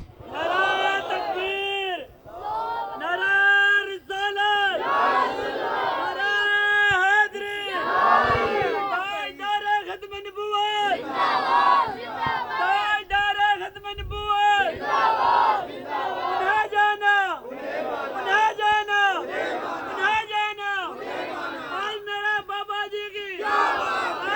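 A large crowd roars a rhythmic takbir chant in repeated loud bursts, voices massed together and sustained throughout.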